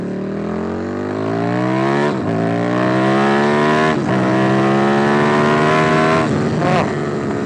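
A Buell 1125R motorcycle accelerates hard, its loud close engine note climbing steeply in pitch through three quick upshifts, each marked by a brief dip before the rise resumes.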